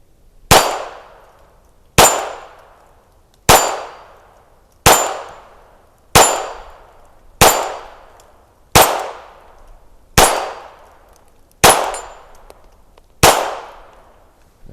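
Ruger Mark IV 22/45 .22 pistol fired ten times at a target, each loud, sharp report followed by a short decaying ring, spaced about every one and a half seconds with no talking.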